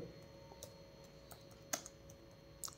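Sparse keystrokes on a computer keyboard while a web search is typed, faint isolated clicks scattered over a low background hiss, with a slightly louder tap near the end.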